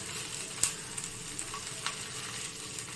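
Asafoetida, ginger, garlic, green chili and onion sautéing in a pan, a soft steady sizzle with faint crackles and a few small pops, close and fairly quiet, with no talk.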